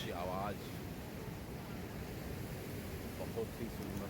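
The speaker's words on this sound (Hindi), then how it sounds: "प्रकृति की गोद में छिपे अनगिनत रहस्यों में से एक पानी के लहरों की आवाज, उसके गति की आवाज।" Water waves wash in a continuous broadband rush mixed with wind buffeting the microphone, steady and moderately loud throughout.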